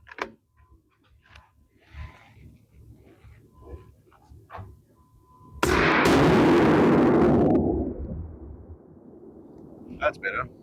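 A single loud 6.5 Creedmoor rifle shot at a competition load test, booming up suddenly and then trailing off in a long roar, after sparse quiet knocks and light movement.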